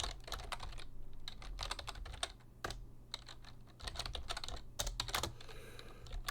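Rapid typing on a computer keyboard, a fast irregular run of close, crisp key clicks with brief pauses, as lines of notes are retyped, over a low steady background hum.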